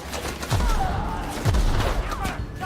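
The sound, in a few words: gunfire from the video game The Outer Worlds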